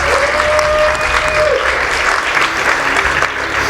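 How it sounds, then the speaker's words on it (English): A loud, close crowd at a gaming-conference StarCraft tournament gives a short burst of sustained applause, dense and even throughout with faint crowd noise mixed in. "Can we give a round of applause to Weston, though, for putting it out there?"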